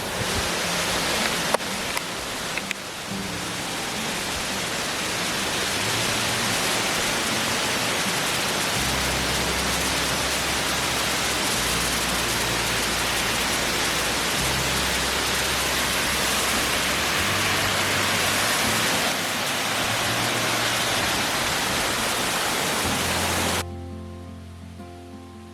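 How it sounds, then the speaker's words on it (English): A waterfall in the mountains near Taxco, Mexico roars as a steady, dense rush of falling water, loud and unbroken for the whole stretch before cutting off near the end. "asked if I wanted to go to a local waterfall"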